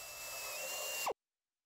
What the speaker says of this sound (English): With the panel secured, drill the remaining holes for the rivets an inch or so apart.